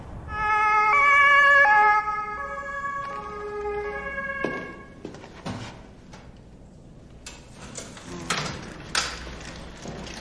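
An ambulance siren wails with a clear rising and falling tone, loud at first and then fading into the distance. Scattered knocks and thumps follow, with no talk.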